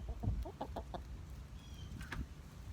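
Rhode Island Red hens cluck in a short series of low, throaty clucks close by, fading into quiet rustle, with a faint higher call near the end.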